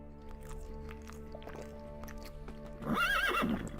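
A horse neighs loudly with a rising, wavering whinny near the end, after soft clip-clopping hoof steps and a steady hum.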